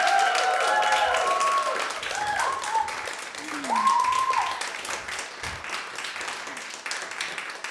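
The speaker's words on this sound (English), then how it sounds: "So let's give a round of applause to her." Audience applause at a stand-up comedy show, a soft wash of clapping that rises and then thins, with voices and cheering over it.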